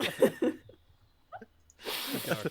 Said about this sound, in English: I need to roll a whiz save on that sneeze